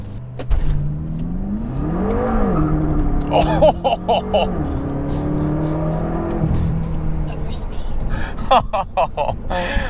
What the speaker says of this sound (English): Launch control in this car is a hell of a lot of fun. Little wheel spin off the line, but then from there it grips and absolutely flies.